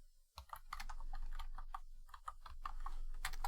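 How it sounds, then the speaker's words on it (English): Rapid typing on a computer keyboard, with quick uneven keystrokes clattering close and clear throughout, no voices. "this is where I started typing"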